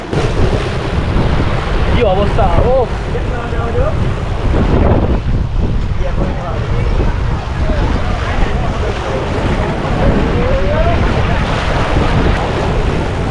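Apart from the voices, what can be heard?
Gomti river current and waves, Dwarka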